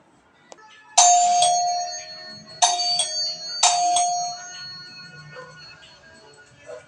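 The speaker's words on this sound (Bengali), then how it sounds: "ওই দেখো কলিং বেল বাজছে" A doorbell rings three times in quick succession, each ring a bright, loud chime that decays slowly, close by with no voices.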